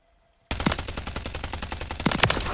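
Automatic weapon fire in Modern Warfare 3 bursts in suddenly after a brief near-silence, a loud, fast string of shots with a few heavier cracks near the end.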